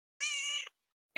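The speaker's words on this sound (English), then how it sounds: "I've got my cat sitting on my chest right now, purring." A cat gives one short, close meow, then a second call begins just as the clip ends.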